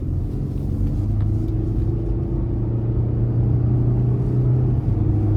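A 2022 Chevrolet Colorado ZR2 Bison engine and exhaust accelerate, a loud steady low drone that rises slightly in pitch, heard from inside the cab.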